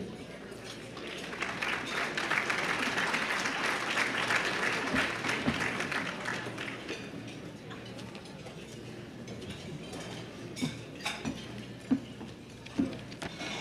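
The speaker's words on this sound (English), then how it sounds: "please join me in welcoming Mr. Dave Bronczek, President and Chief Operating Officer for FedEx Corporation." Applause from a luncheon audience welcoming a corporate executive to the stage, a steady wash of many hands clapping that gradually tapers off into a few sharper individual claps.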